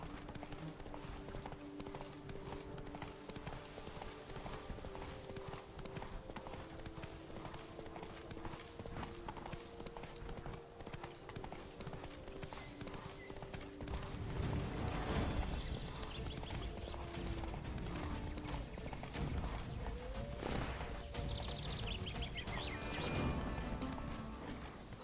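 The horse Roach gallops in a video game, its rhythmic hoofbeats running steadily throughout, growing louder and heavier partway through, with a brief whinny and faint ambient sounds around it.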